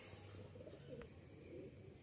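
Pigeons fed on wheat give soft, low cooing calls, faint and somewhat distant, over a quiet outdoor background with a single brief click.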